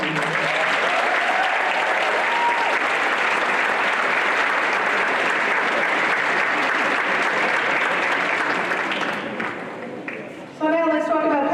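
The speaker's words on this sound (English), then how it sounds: "they deserve a round of applause from you" A crowd at a fall nursing achievement ceremony claps for the graduates' families with loud, sustained applause that fades toward the end before a voice speaks over it.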